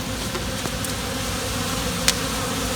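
Honey bees swarming over crushed wax honeycomb to clean out leftover honey beside a Layens hive, a steady close buzzing hum of many bees with occasional individual bees darting past, no voices.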